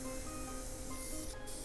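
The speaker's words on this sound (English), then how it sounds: "we're going to just straight up spray all the way around and kind of dull out that back edge" An airbrush sprays paint around the back edge of a skull, a continuous close broadband hiss running steadily throughout without pauses.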